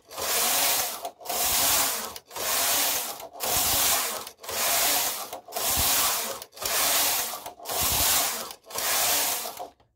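A domestic knitting machine carriage slides back and forth knitting rows of adult tights, giving about nine evenly spaced rasping sweeps, each with a rough mechanical rub, loud and close with no talk.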